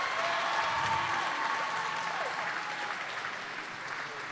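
Spectators applauding at a paraclimbing national championship final, a sustained, even roar of clapping and crowd noise filling the hall, with faint tonal sweeps over the steady applause.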